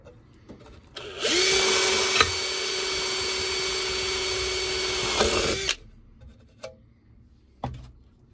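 A Parkside drill bores holes into plywood, starting with a sharp spin-up into a loud, steady whine that holds for about four seconds before cutting off, followed by a few faint clunks and knocks of handling the workpiece.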